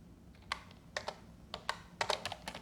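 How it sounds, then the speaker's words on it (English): Computer keyboard being typed on to enter a search, a handful of quiet, scattered key clicks in small clusters, close up and alone. "Let me get Google out, and we're going to type in Beale's"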